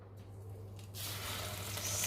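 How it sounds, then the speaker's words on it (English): Coconut-coated chicken roll cordon bleu frying in plenty of preheated oil gives a steady soft sizzle and crackle, quiet and close, growing a little brighter partway through, with a low hum beneath. "So we need to fry."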